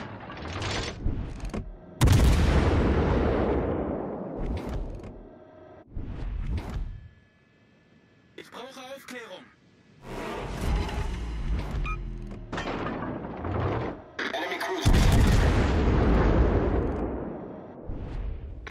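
Naval gunfire from a USS Baltimore cruiser in World of Warships Legends, heavy booming salvos and mechanical clanks recurring across the clip, with quieter gaps between the loud blasts and no talk.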